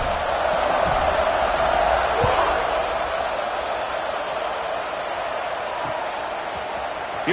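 Steady, loud crowd buzz fills a college football video game stadium after a touchdown, a continuous roar of fans with scattered cheers and whoops throughout.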